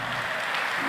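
Audience applause at a talent show after a young girl's dance performance, a dense steady patter of clapping filling the whole moment without pause.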